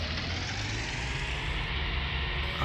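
Tractor engine turning over and running in a snowy winter farm scene in Farming Simulator 19, a steady loud droning rumble with no break, heard alone.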